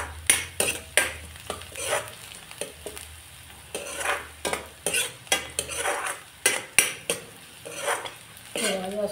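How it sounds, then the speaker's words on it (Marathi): Onions sautéing in a pan for a Malvani-style clam thali, with repeated sharp scrapes and clinks of a spoon stirring against the metal over a low sizzle, close and steady. "हे कांदो आता आपलं चांगलं परततं."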